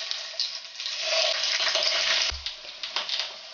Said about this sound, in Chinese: 小火煎制